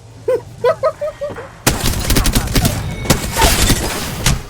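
Rapid, loud gunfire in Apex Legends opens up after a few brief clipped voice-like sounds, continuing as a dense stream of close shots with sharp cracks for several seconds.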